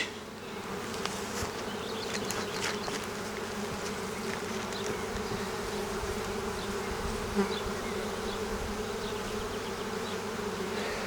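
Honeybees hum steadily at an open Ukrainian-Alpine hive during a spring nest expansion, a dense, close, continuous buzz with individual bees droning past, no talking.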